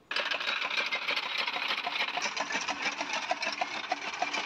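A motor-driven fodder chopper (toka) runs steadily, a loud continuous mechanical whir with rapid rhythmic chopping ticks throughout, close by.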